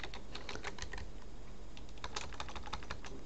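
A password typed on a computer keyboard: a fast, even run of light key clicks, close and fairly quiet, with no talking.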